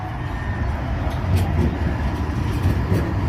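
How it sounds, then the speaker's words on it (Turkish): A tram in Paris rolls in with a steady low rumble and a faint high whine above it, a continuous rail noise. "Şöyle gelen tramvay"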